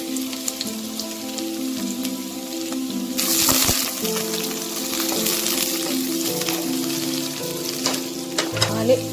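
Garlic frying in hot oil in a pan while making Egg 65, a steady close sizzle that swells louder partway through as the garlic goes in, with soft stirring clicks and a background hum.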